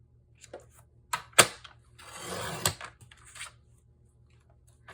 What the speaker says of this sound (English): I'm going to take the other half of my Tahitian tied cardstock and I'm going to cut it at 4 inches